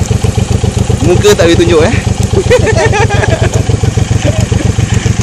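Close, loud idling of a RedQuattro M1800R motorcycle engine during a test ride, a steady rhythmic throb under brief conversation.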